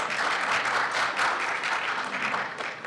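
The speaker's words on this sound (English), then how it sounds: "Yeah, you can applaud if you want to." An audience at a conference breaks into applause, a dense, steady wash of many hands clapping together that holds for a few seconds and begins to taper at the end.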